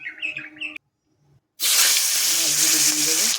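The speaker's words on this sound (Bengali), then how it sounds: "মাছগুলি ভাজা হয়ে গেছে আমি এবার তুলে নেবো" Small chela fish fry in hot oil for a Bengali fish curry, a loud, dense broadband sizzle that bursts in after a brief quiet and holds steady, with a voice speaking before it begins.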